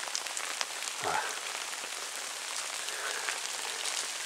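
Steady rain patters outdoors on a wooded hillside path up to an ancient burial mound, a dense continuous hiss of drops close around without any voices.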